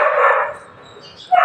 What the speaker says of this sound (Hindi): देखिए कितना डॉगी भौंक रहा है, तो उसी का आवाज़ आ रहा है